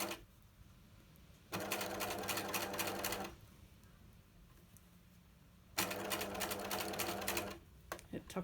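A sewing machine stitches a fabric seam in two close, steady bursts of rapid mechanical whirring and clatter, each lasting about two seconds, separated by a quiet pause.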